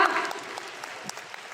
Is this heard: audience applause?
yes